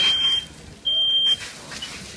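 Smoke detector alarm sounding during a firefighting exercise, two piercing electronic beeps in quick succession, the second longer, over low background noise.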